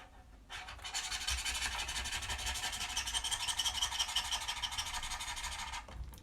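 A knife scrapes sculpting clay loose from underneath while a character figure is modelled from scratch. A continuous close rasping rub starts after a brief pause, holds steadily for several seconds, then stops near the end.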